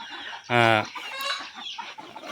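A domestic chicken on a small farm that also raises Chinese ducks lets out one loud, close, harmonic cluck, followed by softer clucking and murmuring bird sounds in the background.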